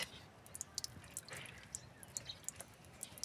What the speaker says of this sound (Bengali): তাতে একটু জল দিয়ে দিলাম